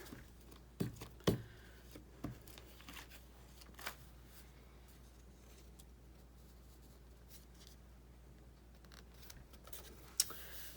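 Scissors snip through an index card in a papercraft session, with a few sharp, close cuts clustered early on, then quiet paper handling and one more crisp snip near the end.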